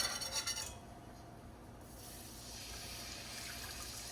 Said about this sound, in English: And then you wanna slowly stir in your liquid.